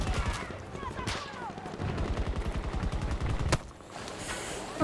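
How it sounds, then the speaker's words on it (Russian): Rapid gunfire in the video game Battlefield 2042 rattles in fast bursts, loud and close, with a sharp single blast near the end and game ambience behind it. "Стреляет."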